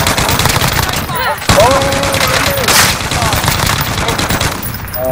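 Rapid, sustained automatic gunfire rattles loud and close in a shooter video game, nearly continuous bursts with brief pauses, while voices speak over the din.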